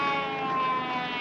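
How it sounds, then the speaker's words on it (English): An ambulance siren wails steadily and continuously, fairly loud and unbroken from start to finish, with no voices. "An ambulance."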